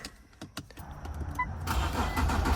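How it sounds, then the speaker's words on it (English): After a few soft clicks, a cheap high-mileage INFINITI Q50 sedan with 124,000 miles cranks and catches, then settles into a steady running engine sound close by. "Let's see if this car will turn on now."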